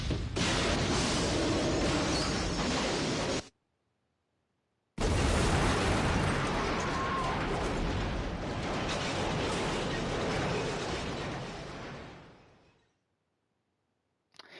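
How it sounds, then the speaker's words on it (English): Explosion in Resident Evil 0, a loud roaring blast that cuts out briefly, then returns as a long rumbling roar before fading away. "Everything always has to end in an explosion"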